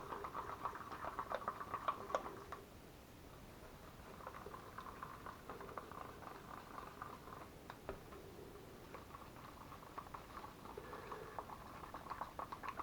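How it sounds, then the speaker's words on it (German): Acrylic pouring paint mixed with a few drops of silicone is stirred briskly in a cup, giving quiet, rapid clicking and scraping in bursts separated by short pauses, faint and close. "Rühre das Ganze jetzt mal kräftig um"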